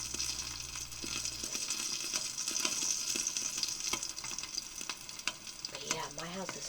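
An egg sizzles and crackles in a small electric skillet, a steady close frying hiss with little pops and a brief scrape near the end, and no talking.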